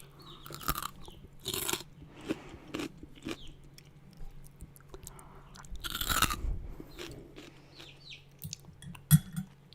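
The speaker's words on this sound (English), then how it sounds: "So you can hear the crunch." Crunchy bites and chewing of garlicky food close to the microphone, a series of sharp crisp crunches in irregular rhythm with quiet gaps between them.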